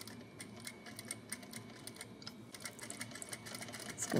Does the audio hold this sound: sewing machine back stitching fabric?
yes